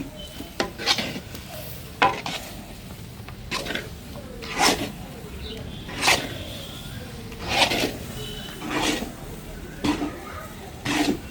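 A spoon scrapes and stirs thick thothal sweet cooking in a pot at home, intermittent loud scraping strokes every second or so over a soft background hiss, with occasional voices nearby.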